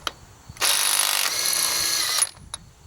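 An Ingersoll Rand W5150 IQv20 mid-torque 1/2-inch cordless impact wrench with a higher capacity battery rattles off a lug nut in one loud, close burst of about a second and a half, ending with a brief click.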